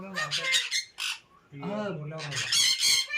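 A pet parrot lets out harsh, loud squawks in several bursts up close, mixed with voice-like calls that may be a person or the bird mimicking.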